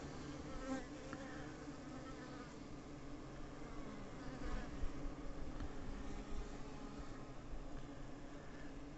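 A swarm of honey bees buzzes around a queen bee that the colony has driven out of the hive, a dense, steady, close drone that holds throughout without pause.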